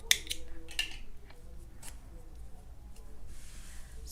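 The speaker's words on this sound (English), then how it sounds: "Then you chain 1 and cut your yarn." Scissors snip through yarn while finishing a crocheted daisy flower: a few brief, quiet cuts close by, the sharpest near the start, over a soft room background.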